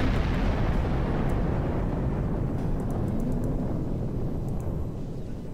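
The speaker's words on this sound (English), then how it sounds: "There's a glorious explosion, probably from the Thaleron weapons." A loud, sustained explosion from Thaleron weapons in a space video game, heard as a dense low roar that stays steady and fills the whole clip with no talk over it.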